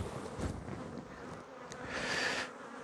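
Honey bees in an apiary hum in a dense, steady buzz during a hive check, the swarm close to the microphone and swelling louder near the end, with no talking.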